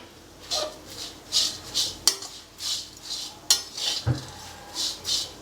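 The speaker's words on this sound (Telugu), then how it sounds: "ఈ 50 గ్రాముల చింతపండు కరేపాకు దాంట్లో వేయించుతున్నా" Fifty grams of tamarind and curry leaves are dry-roasted in a pan for a spicy black chutney powder, with close, repeated scraping strokes of a spoon and a few sharper clinks against the metal.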